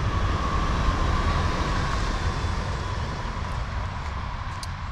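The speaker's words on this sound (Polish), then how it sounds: "O, i akurat jedzie pociąg. A zwykły regio." A regional passenger train passes in Grabiny, Poland, rumbling steadily with a broad, continuous roar and a faint whine, heard from nearby outdoors.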